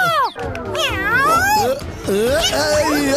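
A cartoon cat from a Motu Patlu episode meows in drawn-out, wavering cries, several in a row, loud and close, with a playful voiced quality throughout.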